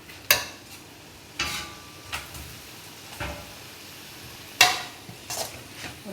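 Chicken tandoori masala cooks in a pan under a faint sizzle, punctuated by a handful of sharp spatula clanks and scrapes against the metal.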